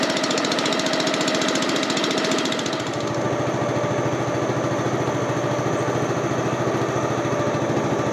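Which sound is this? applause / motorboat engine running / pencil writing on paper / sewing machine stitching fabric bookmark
motorboat engine running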